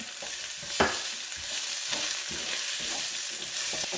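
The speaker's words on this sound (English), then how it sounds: "We're going to add that to our onions and saute for just a little bit" Five cloves of minced garlic and onions sauteing in a hot skillet for a pot roast, giving a steady, even sizzle with a few sharp stirring clicks and scrapes, fairly close and without talk.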